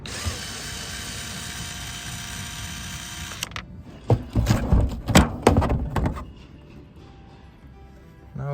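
Power drill drives a screw into a Sprinter van ceiling fitted with L tracks: a steady whine for about three seconds, then a burst of loud clattering knocks and thuds before things settle into a quiet hum.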